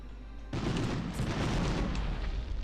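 A barrel explodes in the video game Medal of Honor, a sudden loud boom after a brief quiet lead-in, followed by a rumbling, crackling tail that stays strong to the end.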